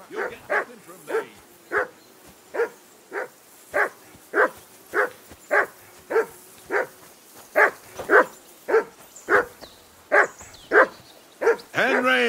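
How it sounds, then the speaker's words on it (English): A dog in the medieval game Kingdom Come: Deliverance 2 barks over and over in a steady, evenly spaced rhythm, with some seventeen loud, close barks across the stretch and no other sound competing. "Whistle at that mutt of yours to stop barking."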